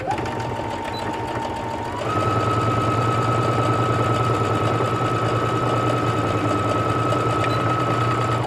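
Sewing machine stitching a quarter-inch seam down the side of a welt-pocket Christmas stocking runs in a steady, fast mechanical whir, with a pitch shift partway through as the speed rises, close and loud with no talk.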